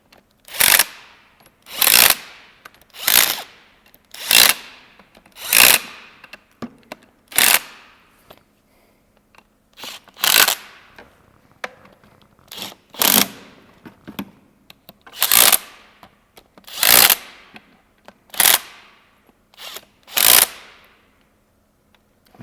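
An impact gun tightens the bolts on a Subaru five-bolt R160 differential during a Torq Locker install: about sixteen sharp, close rattling bursts in a steady rhythm, with short gaps between them.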